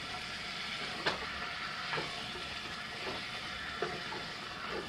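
Risotto being stirred in a pan as stock is added a ladleful at a time. A steady soft sizzle runs under a few faint scraping strokes spaced about a second apart, with no talking.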